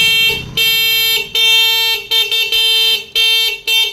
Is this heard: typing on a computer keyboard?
no